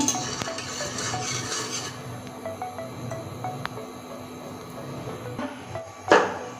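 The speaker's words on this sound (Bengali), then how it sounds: "সামান্য পরিমাণ তেলের উপরে লবণ দিয়ে দিব মাছটা যেহেতু নিচে না লাগবে তার জন্য লবণ দিয়ে একটু নেড়ে দিচ্ছি" Fish being stirred with salt in a little oil in a frying pan, a steady low sizzle with occasional soft scrapes and clinks of a utensil, and a sharper clatter near the end.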